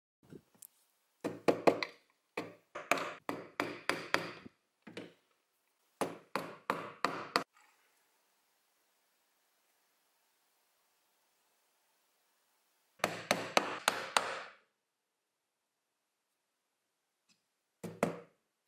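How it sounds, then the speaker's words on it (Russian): Hammering aluminium nails into wood, with clusters of sharp, close hammer strikes in quick rhythmic runs, separated by pauses and a long silent gap before a final burst and a last couple of blows. "Начнем гвозди колотить."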